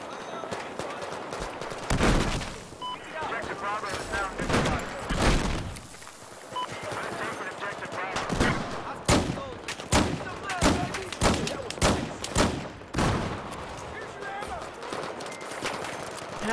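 Gunshots from a .44 Magnum revolver and other weapons ring out in Battlefield 4 on PC. Sharp, loud reports come in uneven volleys, some spaced apart and some clustered in quick bursts, over background game noise.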